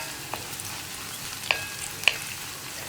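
Chopped onions frying in a pan for parippu curry, a steady close sizzle broken by a few sharp scrapes and knocks as a spoon stirs them.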